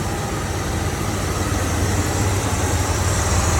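A restored 1987 Chevy V30 one-ton 4x4 truck engine with headers idling steadily, a low, even rumble heard up close with no talk.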